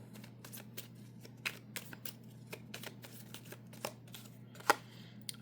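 Tarot cards being shuffled by hand in a quiet room, a faint series of soft riffling snaps and light taps spread over several seconds, with one sharper flick near the end.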